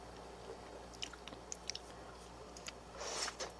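Raw deep-sea shrimp sashimi is chewed up close, with soft, wet mastication and scattered small crunchy bites, faint and steady with no talking.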